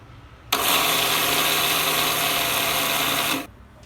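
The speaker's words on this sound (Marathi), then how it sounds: "हे सगळं आहे ना मिक्सरला फिरवून घ्यायचंय" A kitchen mixer grinder whirs loudly and steadily for about three seconds as it grinds peanuts, sesame seeds and jaggery, starting abruptly and cutting off cleanly, with quiet room sound on either side.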